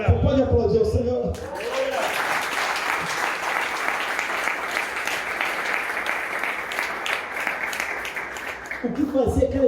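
Church congregation applauding during a Sunday celebration service, a broad, sustained wave of clapping from a large crowd lasting several seconds, framed by a preacher's voice before and after.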